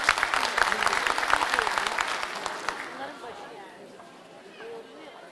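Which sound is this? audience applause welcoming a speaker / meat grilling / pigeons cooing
audience applause welcoming a speaker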